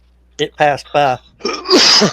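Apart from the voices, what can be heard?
sneeze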